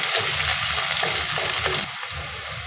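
Green chilies, chopped onion and cumin seeds roast in a hot pan with a dense, close crackling sizzle, occasional stirring scrapes, easing slightly softer near the end.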